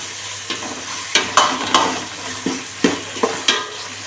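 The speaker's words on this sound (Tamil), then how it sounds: "இஞ்சி பூண்டு விழுந்து போட்டுக்கலாம் எல்லாமே சேர்ந்து நல்லா கொஞ்சம் வதங்கட்டும்" Ginger garlic paste sautés in a pan for mutton biryani: a constant close sizzle punctuated by several sharp scraping stirs of a spatula at irregular intervals, with no voices.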